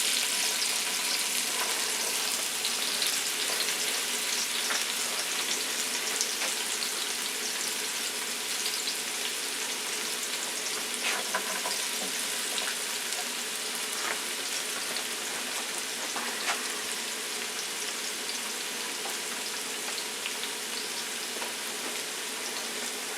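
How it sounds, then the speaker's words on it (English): Onion and pepper frying in hot oil in a pan at a rental house, a dense, even sizzle and crackle held steady throughout, close and fairly loud with no voices. "So I'm going to go ahead and put the onion and pepper in."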